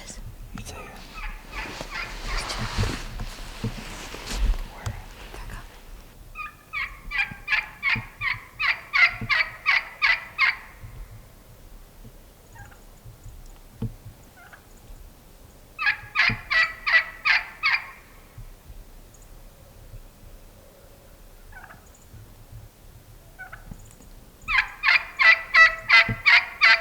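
Merriam's wild turkeys gobble in Wyoming: three rapid, rattling bursts of gobbles spaced several seconds apart, moderately distant, with quiet outdoor rustling in between.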